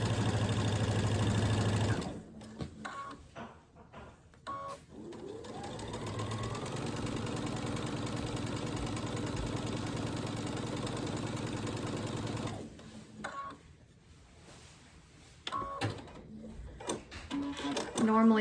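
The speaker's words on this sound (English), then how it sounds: "I'm gonna take it to the machine and I'm gonna stitch on the edge of that till I get to the corner" A sewing machine stitches along a fabric edge with a fast, rattling mechanical hum that starts, runs steadily and pauses, close and loud, with a person talking at points around the stitching.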